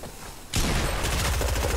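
Rapid burst of gunfire from the Fortnite Battle Royale video game, starting abruptly after a quiet moment and continuing as a loud, steady stream of repeated shots.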